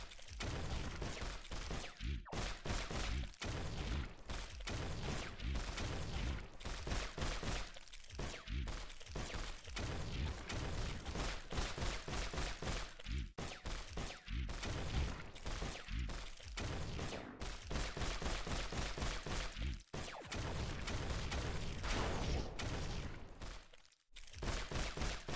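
Rapid, sustained volleys of turret gunfire pound against a wall in the video game Turret Rampage, dense overlapping shots with brief gaps, loud and continuous throughout.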